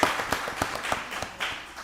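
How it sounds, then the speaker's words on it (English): A small audience at a county commissioners' work session gives a brief round of applause for a deputy director, scattered claps in a meeting room, fairly faint. "Y'all give Deputy Director Barnum a round of applause."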